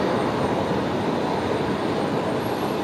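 A Jetstar Airbus A321 jet at Brisbane Airport gives off a continuous broadband engine roar, steady and fairly loud, heard outdoors with no talking.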